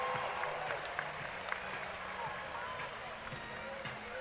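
A men's college volleyball crowd at the Long Beach State pyramid arena cheers and claps at a distance, a faint steady roar with scattered sharp claps and thuds.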